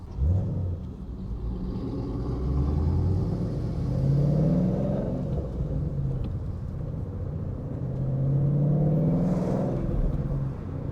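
A Mustang GT with a newly changed H-pipe idles and revs in a deep, steady exhaust rumble, swelling twice to louder, rising revs before settling back, heard close with no talking.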